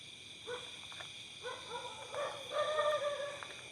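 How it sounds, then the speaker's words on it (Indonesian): A dog barks repeatedly in the distance, the barks growing more frequent and slightly louder over a steady high-pitched insect drone. "Pantesan anjing ngegonggong terus tadi dari sini"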